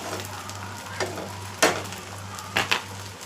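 Beaten egg spread across a hot oiled frying pan, a steady faint sizzle running throughout with a few sharp scraping and clinking strokes of a spatula against the pan.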